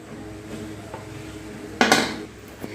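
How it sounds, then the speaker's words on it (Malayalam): Cooked jackfruit being stirred in a pot with a thick ladle: quiet background, then one sharp metallic clatter and scrape of the ladle against the pot, followed by a faint knock. "കട്ടിയുള്ള ഒരു തവിയും കൊണ്ട് എല്ലാം കൂടി ഇളക്കി യോജിപ്പിച്ച് കൊടുക്കുകയാണ്."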